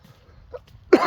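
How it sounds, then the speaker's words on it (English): A single sharp cough bursts out near the end after a quiet stretch, close and fairly loud. "bit of a cough this morning"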